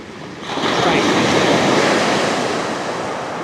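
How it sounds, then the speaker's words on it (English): Waves break and wash steadily along a winter beach, a loud, continuous surf roar swelling after a quieter first moment, with some wind buffeting the microphone. "Waves are getting bigger."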